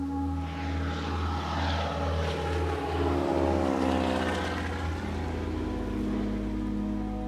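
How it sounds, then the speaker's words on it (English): A float plane's propeller engine drones loud and close, a steady, heavy rumbling hum with a slight shift in pitch as it runs, carrying a trip to a fishing river in Labrador. "boarded a float plane to head to a new river"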